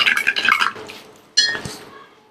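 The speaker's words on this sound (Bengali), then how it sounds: "তারপর আমি নেড়ে চেড়ে মিশিয়ে নিচ্ছি" Food seasoned with Himalayan pink salt is stirred and mixed with a utensil, giving close scraping and clinking against a dish in two short bursts separated by a brief pause.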